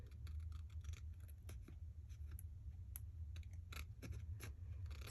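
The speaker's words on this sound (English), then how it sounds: "I'm going to take some smaller scissors and do a little better job of trimming." Small scissors snip paper in quick, light cuts while trimming a shabby pocket booklet, a close series of crisp clicks over a low steady hum.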